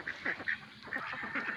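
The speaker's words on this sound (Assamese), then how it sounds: "ইমানবিলাক হাঁহে আমাৰ চুইমিং পুলত" Ducks swim in a pond filled by floodwater, giving repeated nasal quacks and honking calls in short bursts against steady outdoor background noise.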